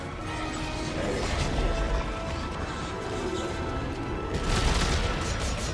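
Rapid, dense bursts of gunfire in the video game Dead Space 3 crackle continuously, with a heavier volley near the end.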